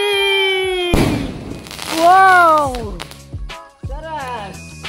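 A Diwali aerial sky bomb firecracker goes off at home as one sharp, loud bang partway through, mixed in with people talking throughout.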